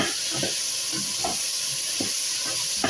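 Coriander leaves stirred and fried in a pan give a steady hiss and sizzle, punctuated every half second or so by soft scraping strokes of the spoon, close and moderately loud.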